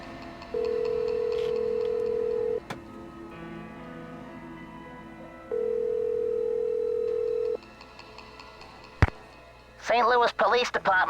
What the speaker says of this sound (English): But for the police, I'm just gonna dial 911.